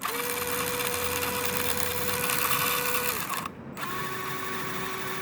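Motor and central gearbox assembly of a Pinecone Forest toy running forward, a steady mechanical whirring whine close by that briefly cuts out, then resumes.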